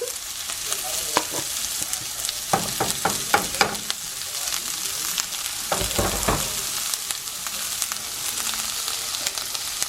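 Onion sizzles steadily in a hot pan, a close, continuous frying hiss broken by bursts of quick scraping taps as it is stirred, with no one speaking.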